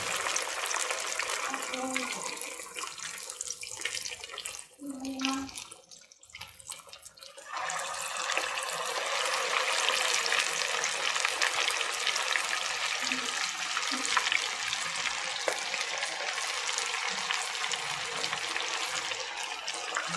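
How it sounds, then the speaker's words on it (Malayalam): Chicken pieces drop into hot coconut oil and fry, a dense, loud sizzling hiss that dips briefly, then swells and holds steady and close for the rest of the stretch, with faint voices in the background. "ചിക്കൻ്റെ പീസുകൾ ഇതിലേക്ക് ഇട്ട് കൊടുക്കാം."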